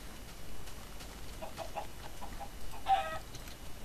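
Chickens in Minecraft cluck softly in a short run of quick clucks followed by one brighter squawk, faint against a quiet game background.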